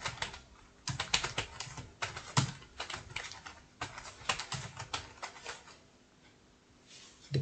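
Quiet, close typing on a computer keyboard fills a blank document, with irregular bursts of soft key clicks and brief pauses between words, no voices.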